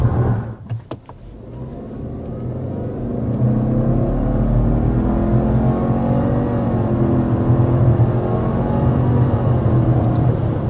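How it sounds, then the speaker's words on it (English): A 2026 Subaru Outback Touring XT turbo pulls uphill under acceleration from inside the cabin, a steady engine drone rising in pitch over about ten seconds after a few brief clicks. "so there's another acceleration"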